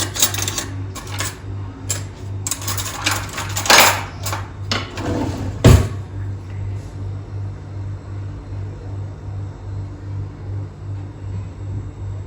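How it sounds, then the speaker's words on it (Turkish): A fork scrapes and taps across soft flour cookie dough on a tray, scoring lines in a burst of close scratchy strokes over a steady low hum, then quieting to just the hum. "Böyle çatalla çizgimizi çizelim"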